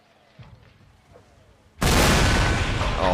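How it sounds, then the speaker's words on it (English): Cannon fire in the video game Mount & Blade: a few faint distant booms are followed by a sudden, loud, sustained roar of massed fire that carries on to the end. "Oh, listen to those cannon reports."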